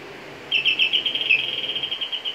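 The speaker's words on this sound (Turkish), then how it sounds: "3 tane kuş ses gelecek." An electric doorbell sounds a synthetic bird-call chime, a bright repeated warbling tone that plays three chirping phrases in quick succession, clear and close against a quiet background.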